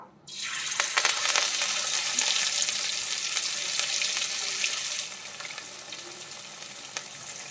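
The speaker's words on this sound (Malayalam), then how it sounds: "നമുക്കിനി മീൻ ഓരോന്നായിട്ട് അതിലേക്ക് ഇട്ട് കൊടുത്തിട്ട് വറുത്തെടുക്കാം" A sudden loud sizzle bursts up as fish hits hot oil, then settles into steady, crackling frying that eases slightly toward the end.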